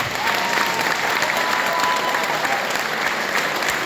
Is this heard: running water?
no